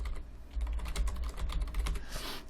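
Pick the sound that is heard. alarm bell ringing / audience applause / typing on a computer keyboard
typing on a computer keyboard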